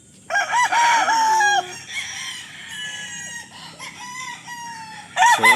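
Gamefowl roosters of the Mt. Banahaw bloodlines crowing loudly and close, several overlapping cock-a-doodle-doos in succession with clucking between calls and a fresh crow starting at the end.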